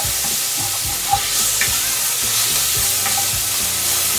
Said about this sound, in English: Pot's just starting to warm up, so I'm gonna go in with the bacon.